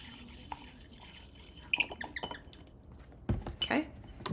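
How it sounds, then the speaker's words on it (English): Hydrogen peroxide poured into a mason jar makes a few quiet splashes and trickles in two short bursts, with faint dripping around them and long quiet gaps. "now we are going to fill the mason jar with about a 1/2 inch of hydrogen peroxide"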